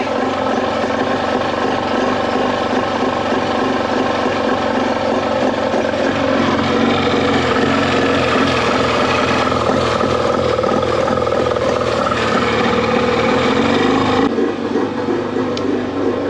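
A small Yamaha 25 hp two-stroke outboard motor runs steadily and loudly at close range, a constant buzzing drone with a rattling edge that holds its pitch without pause.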